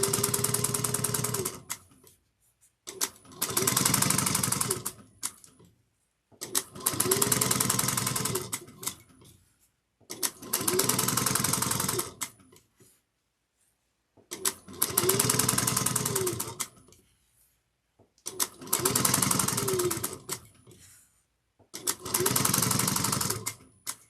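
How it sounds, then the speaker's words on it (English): Sewing machine back stitching a tote bag strap, running in seven loud bursts of rapid needle chatter, each lasting a couple of seconds and separated by short pauses. "I'm going to back stitch again."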